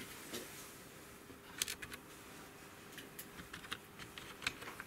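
Computer keyboard keys tapped in short, irregular bursts while a login and password are entered, the clicks faint and close with quiet room noise between them and no talking.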